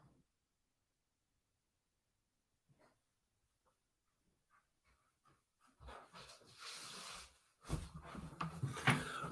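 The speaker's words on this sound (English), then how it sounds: "My dog's barking." A dog pants and snuffles nearby after a long near-silent stretch, with faint scattered clicks and shuffles building into heavier, rhythmic breathing and movement.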